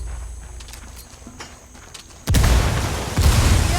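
A frag grenade explodes in the video game Ghost Recon Wildlands with a sudden heavy boom that rolls into sustained rumbling debris noise. Quieter ambient game sound plays before it, and a second surge follows.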